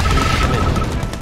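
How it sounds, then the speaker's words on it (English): Continuous gunfire and explosions in the real-time strategy game Mental Omega, a loud dense battle clatter with overlapping shots and booms throughout. "Gun battle."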